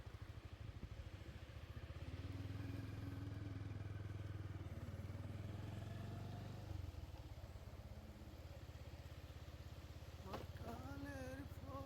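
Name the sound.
motorcycle riding on Saint Martin island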